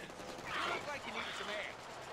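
Bursts of video game gunfire from a Deadpool shooter rattle in two quick volleys, fairly faint and slightly distant against a soft background hiss.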